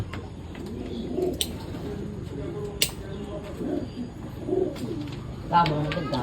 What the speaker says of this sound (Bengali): বন্ধ করে আছে কবুতর, দেখা যায় না চোখটা।